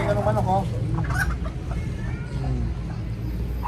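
Chickens clucking and squawking nearby in quick bursts, with people talking around them.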